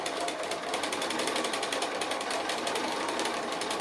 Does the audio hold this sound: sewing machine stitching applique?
yes